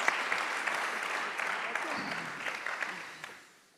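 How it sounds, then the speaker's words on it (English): Audience applause at the close of a panel discussion on sustainable food systems in Dublin, a steady dense clapping that holds for several seconds and then tapers off at the end. "Please give them a warm applause for that."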